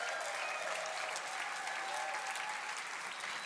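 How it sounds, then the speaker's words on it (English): An awards-event audience claps steadily and densely, a continuous wash of applause with faint crowd murmur and a few cheers, moderately distant and even in level. "Give him a big round of applause"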